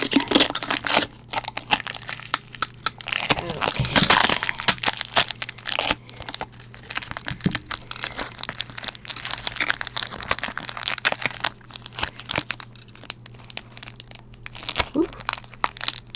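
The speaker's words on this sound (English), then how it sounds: "It's that nice, real sticky adhesive tape that they like to put on these." Sticky adhesive tape is peeled from a jewelry jar and crinkled close up, a continuous stretch of ripping, crackling and rustling with occasional louder tears.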